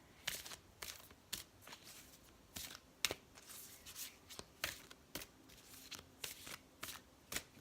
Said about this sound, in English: You can hear me shuffling